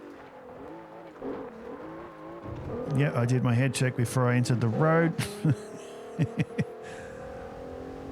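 Engine of a Maserati in the video game Forza Horizon, revving and climbing in pitch through gear changes as it drives off, heard under someone talking.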